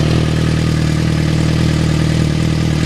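Yamaha FZ6R motorcycle with a loud, deep aftermarket exhaust, the warm engine running steadily and close, a continuous throaty drone with no pauses.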